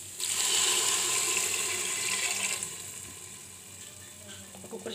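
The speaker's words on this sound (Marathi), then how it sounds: "त्यामध्ये आपण 1 ग्लास पाणी टाकायचं" A glass of water is poured into a hot pan holding sweet potato, jaggery and cardamom. It gives a loud hissing rush at the start that slowly fades to a quieter bubbling simmer.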